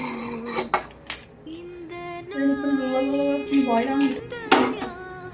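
Pots, plates and utensils clatter and clink while being washed in a home kitchen, with scattered sharp metallic knocks and ringing tones, close and moderately loud, and no talking.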